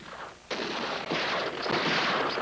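Gunfire bursts out as mine guards and miners open fire at Blair Mountain, West Virginia: a sudden loud volley followed by sustained rapid crackling shots in overlapping waves.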